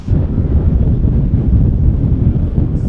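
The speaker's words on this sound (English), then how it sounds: "It's windy." Strong typhoon wind buffets the microphone with a loud, steady low rumble throughout, outdoors near the Imperial Palace in Tokyo, with no voices.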